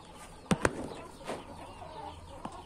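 A chick clucks inside a coop, with a few short, sharp clucks and faint wing flutters spaced out against quiet background hiss.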